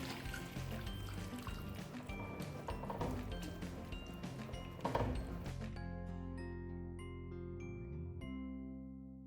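Boiling water is poured into a Kerala-style vegetable biryani pot holding cauliflower, carrot, potato and beans; a soft, steady watery rush runs for several seconds, then gives way to quiet tones.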